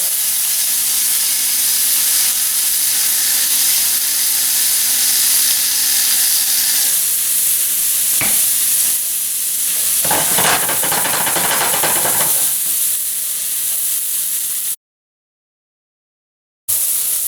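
Onions frying in a pan until brown, a continuous loud hiss and sizzle with a short burst of stirring or spattering midway, then a sudden cutoff to silence before the frying resumes.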